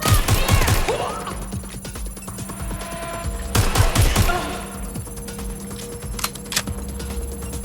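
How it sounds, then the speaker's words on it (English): Rapid bursts of gunfire in the video game Watch Dogs Legion, loud clustered shots at the start and again midway, with fainter scattered pops between, over a game background bed. "I'm getting shot out here!"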